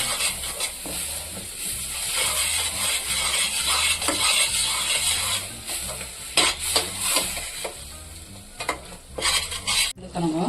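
Thick masala for eggplant gravy bubbling and sizzling in a pan, with steady hiss and occasional scraping and stirring clatter of a utensil.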